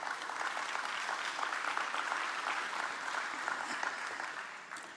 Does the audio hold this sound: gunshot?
no